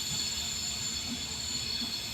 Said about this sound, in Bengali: নিকুজবাড়ির দিকে যাচ্ছে ট্রেন